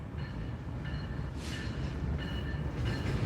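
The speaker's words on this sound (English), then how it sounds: "it looks like we got a BNSF coal on the NS line. Coal drag, 2 units leading" A BNSF coal drag led by two locomotives rolls past on the NS line at Dalton, a steady broad rumble of wheels and cars with faint squeal-like tones riding on top, continuous throughout.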